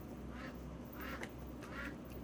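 A duck quacks three times in a steady rhythm, faint and somewhat distant against a constant background hiss, with no voices present.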